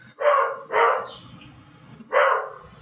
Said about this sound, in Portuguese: Cachorro, cala a boca, cachorro do inferno.